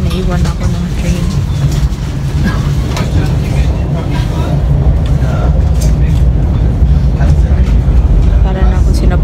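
Train ride in Germany, a steady loud rumble of the moving carriage with rattling and low mechanical drone throughout, voices faintly mixed in.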